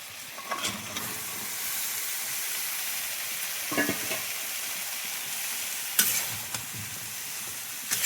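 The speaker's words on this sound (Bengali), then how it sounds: "ফুলকপি যেহেতু ভাজা হবে, চিংড়িটাও ফুলকপির সঙ্গে ভাজা হয়ে যাবে" Cauliflower and shrimp fry in ginger-garlic water in a pan, making a steady, close sizzling hiss with a few brief stirring clatters.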